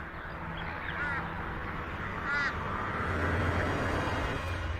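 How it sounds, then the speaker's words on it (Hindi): A flock of crows calls in the African savanna, with a couple of distinct harsh caws standing out over a steady outdoor background hum. "कौओं का ये झुंड पास से ही इन पर नजर रखे हुए है।"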